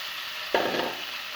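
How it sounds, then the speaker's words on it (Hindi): Raw chicken hits hot oil in a pan, setting off a sudden sharp sizzle that flares up and settles into a steady hiss over a quiet kitchen background. "और अब इस ऑयल में हम चिकन को डाल देंगे।"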